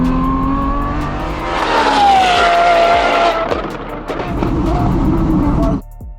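A race car at a track weekend roars past up close, its engine note sweeping downward as it passes, with tire noise and a brief squeal before it fades and cuts off abruptly near the end.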